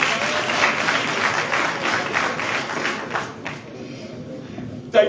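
Audience applause fills a parliamentary session in Freetown, Sierra Leone, during approval of presidential nominees: dense, steady clapping for about three and a half seconds, then thinning out to scattered claps and room noise.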